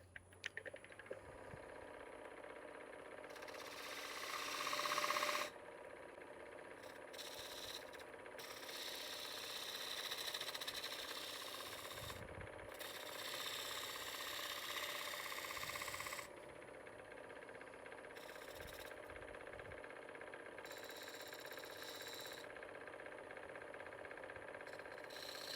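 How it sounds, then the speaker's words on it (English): A wood lathe turns a partially dried bowl with a crack in it while a spindle gouge cuts it, giving a steady mid-range whirring and scraping grind that rises and drops in loudness as the tool engages and lifts off. "I'm going to go back to my spindle gouge for that part."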